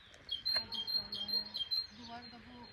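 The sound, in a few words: bird calling at a campsite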